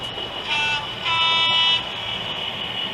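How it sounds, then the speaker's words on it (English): A model train hums along with a steady mechanical drone, broken by two short horn toots near the start, fairly close and without speech. "I'll film this bit properly now with the trains running, and I'll put the sound on now for you"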